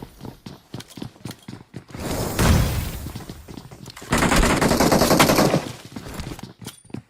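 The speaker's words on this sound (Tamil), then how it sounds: "எல்லா பக்கமும் புல்லட் வருது." Gunfire in the mobile battle royale game BGMI (PUBG Mobile), with rapid bursts of automatic shots crackling on and off, two dense loud volleys in the middle between sparser sharp reports.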